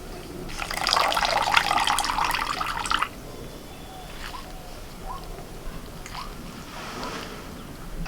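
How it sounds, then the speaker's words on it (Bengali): Cut potatoes are washed in cold water, with a burst of splashing and running water for about two seconds, followed by softer, scattered drips and small splashes. "এই জলটা একটু ভালো করে ধুয়ে নিয়ে আবারও আমি এখান থেকে ছেঁকে আবারও কিছুটা ঠান্ডা জল নিয়েছি"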